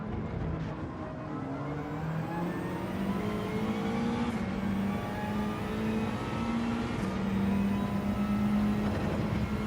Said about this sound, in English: Rev it out, rev it out.